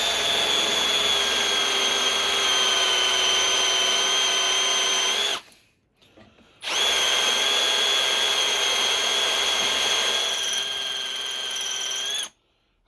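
A power drill whines steadily at high pitch while drilling through a classic Mini's flywheel ring gear, stops briefly, then starts again and runs continuously, loud and close.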